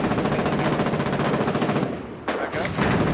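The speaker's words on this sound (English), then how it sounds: "Just shooting at depot boxes." Rapid automatic gunfire from the war game Foxhole fires in dense, continuous bursts with a brief pause before resuming, loud and close.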